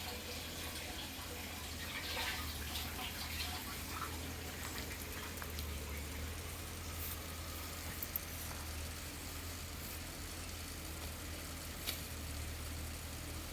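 Water pours into a large container filled to about two hundred litres for drip irrigation on an organic farm, a faint, steady running and splashing that continues evenly with no talk.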